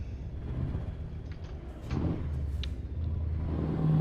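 Scania 730 V8 truck engine from a freeware sound mod in Euro Truck Simulator, a steady low rumbling idle that swells slightly around the middle and grows a touch louder toward the end, heard alone without talk.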